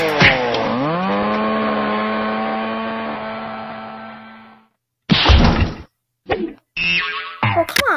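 A video game chainsaw attack: a long, loud, high-pitched revving whine for several seconds that fades out, then a few sharp, heavy bursts of impact noise close by, with no talking.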